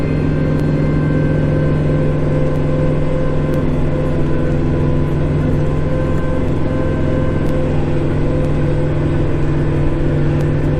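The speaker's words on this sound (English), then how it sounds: "Bring up my RPMs." A snowblower engine runs steadily and loud, a close, continuous mechanical drone with a strong low rumble that holds through the whole stretch, heard alone without voices.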